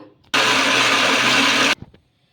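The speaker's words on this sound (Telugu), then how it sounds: "ఇప్పుడు మూత పెట్టేసుకొని ఇంకా మిక్సీ అయితే పట్టేసుకుందాము" A mixer grinder whirs loudly for about a second and a half, starting and stopping abruptly, followed by a few faint clicks.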